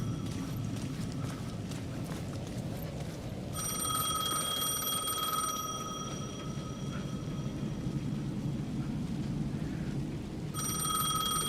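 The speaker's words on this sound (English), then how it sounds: "The payphone was ringing again." A payphone rings in the video game Alan Wake 2, repeated bursts of bright ringing starting partway in and returning near the end over a steady low ambient rumble.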